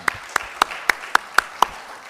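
Seven sharp, evenly spaced handclaps ring out in a parliamentary hearing room, a brief rhythmic burst of applause with no talk over it.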